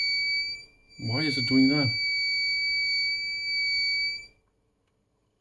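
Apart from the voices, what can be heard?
beeper on Martin Hot-Beam-04 IR heatplate sounding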